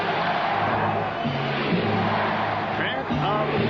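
Arena crowd noise from the 1997 NBA Finals Game 4, Utah Jazz versus Chicago Bulls, a steady roar and murmur filling the background beneath a commentator's voice during play.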